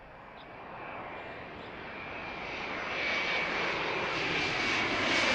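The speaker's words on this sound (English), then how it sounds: "There's the Dreamliner." Boeing 787 Dreamliner jet at Pittsburgh International Airport, a broad steady engine roar that grows louder across the moment, heard alone from a distance.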